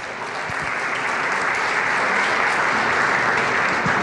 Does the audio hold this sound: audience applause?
yes